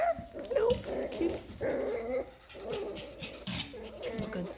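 A litter of seven-week-old puppies scraps together nearby, yipping and giving short barks and whimpers in a busy, continuous tussle. A person talks softly over them.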